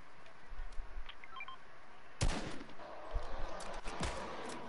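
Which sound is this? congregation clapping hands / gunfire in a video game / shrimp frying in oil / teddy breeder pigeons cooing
gunfire in a video game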